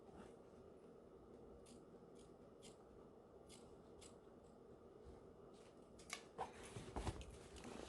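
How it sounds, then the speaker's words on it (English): Scissors cutting upholstery fabric on a bar stool, a run of quiet, close snips spaced at intervals, growing busier and louder with rustling near the end; no talking. "So I'm gonna go ahead and I'm gonna cut the other side."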